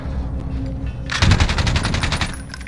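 Light machine gun firing in the video game Modern Warfare: a sustained rapid automatic burst of sharp, evenly spaced shots, close and loud, starting after a quieter moment and tailing off near the end.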